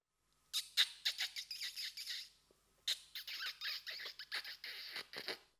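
A person squeaks on the back of a hand, imitating a rabbit in distress: a run of sharp, high, rapid squeaks in two bursts separated by a brief pause, close and loud with no talk.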